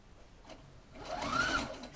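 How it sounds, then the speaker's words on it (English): A sewing machine running a straight stitch over ric rac braiding, starting softly and building into a steady mechanical whir, close and fairly quiet, with no talk. "that you are sewing and catching your braiding"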